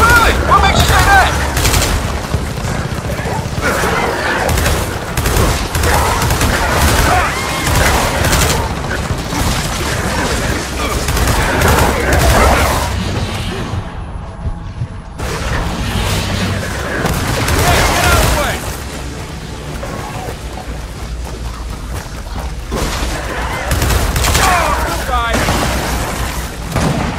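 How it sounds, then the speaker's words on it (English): Heavy covering gunfire and booming blasts in the Gears of War 4 video game, loud and near-continuous across the stretch with a brief dip midway, with people talking over the shooting. "we're gonna need some covering fire down here"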